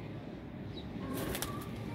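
A female Sandoori Palak pigeon coos softly with a brief flutter of wings, close by, over a steady low background hum.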